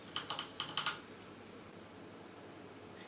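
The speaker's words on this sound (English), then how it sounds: "the MX Black switches are linear switches, and they are non-tactile and non-clicky." A TT Esports MEKA G1 mechanical keyboard with linear Cherry MX Black switches is typed on, about six quick, soft keystrokes in the first second, then quiet, with one faint tap near the end.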